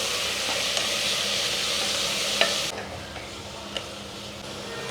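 Fenugreek greens and onions frying in oil, a constant close hiss and sizzle with a few light clicks of stirring, easing slightly partway through, with no voices.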